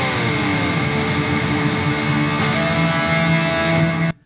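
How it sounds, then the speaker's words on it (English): A Graphene guitar pedal runs its octaver with the blend set to -12, giving a loud, thick sustained guitar tone with a lower octave underneath that rings steadily before cutting off abruptly. "you could jump right into the -12 on blend. It becomes a really, really great octaver."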